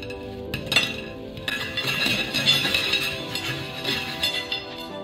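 Golden-brown fried chicken is lifted from deep frying oil to drain, with metal utensils clinking and tapping lightly against a pan or wire rack over a soft, continuous background hiss.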